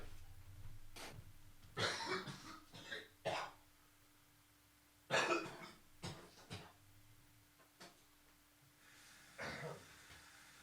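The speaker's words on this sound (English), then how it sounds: "So I'm gonna get this cough out real quick" A person coughs and clears their throat in repeated harsh bursts, some in quick clusters, close to the microphone in an otherwise quiet room with a faint steady hum.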